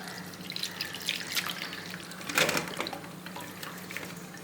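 Salty brine from salted mangoes trickles and drips as it is drained off in a kitchen, a soft, close splashing with uneven little bursts and no voices.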